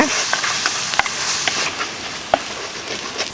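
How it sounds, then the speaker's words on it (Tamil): Masala with turmeric powder sautéing in a little oil in a pan for a breadfruit sukka, giving a steady close sizzle broken by the sharp taps and scrapes of a spoon stirring. "கொஞ்சம் எண்ணெயில் நல்லா வதக்கலாங்க"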